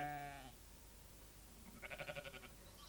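Day-old newborn lambs bleat on a farm, one short call at the start and then a quavering, wavering bleat a moment later, close and clear over a faint background.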